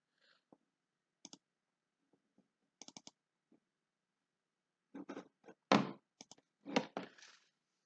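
Mouse clicks on a computer during a number line lesson: a few sparse, quiet single and double clicks early, then a louder cluster of clicks and thumps near the end, with no talking.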